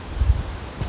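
Gusts of wind buffeting a microphone outdoors on a windy day, low rumbling thumps in short bursts, close and fairly loud with no talking.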